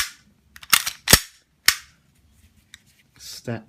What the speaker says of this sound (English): This one actually comes with a CO2 mag to push this slide.